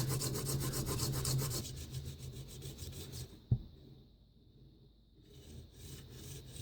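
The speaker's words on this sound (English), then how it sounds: "Here's about 10 minutes of honing with the 260 grit stone" A plane blade rubbed back and forth on a 260 grit sharpening stone gives a steady gritty rasping stroke pattern, loudest early on, then a single sharp knock and quieter intermittent scraping.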